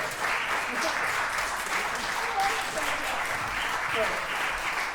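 Sustained crowd applause fills a choral anthology presentation, steady and dense throughout, with faint voices mixed in beneath the clapping.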